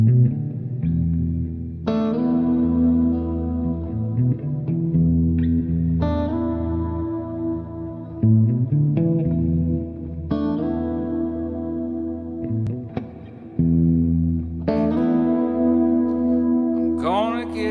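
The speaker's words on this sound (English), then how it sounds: "I want some reverb. I can do that now." Music with a heavy reverb and echo effect on electric guitar, sustained chords ringing out in repeated phrases with long washy tails, loud and steady throughout.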